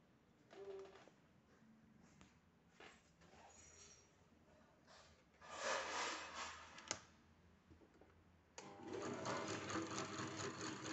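A household electric dynamo motor hums steadily after being switched on, a faint continuous drone with a few louder mechanical surges and swells rising over it.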